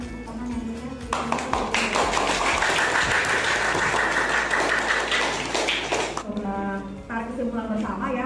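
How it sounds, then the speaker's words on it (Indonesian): Lively classroom applause after a grade 7 science class debate, a steady burst of many hands clapping for about five seconds before tapering off into quieter sounds. "Mari kita berikan tepuk tangan yang meriah."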